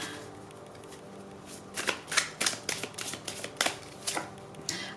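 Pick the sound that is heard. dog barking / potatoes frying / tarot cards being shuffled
tarot cards being shuffled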